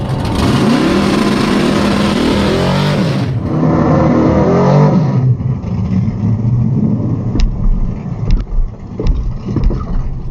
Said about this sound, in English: we got a race lined up with this Cougar here, and we're in drag strip mode, peak performance ready.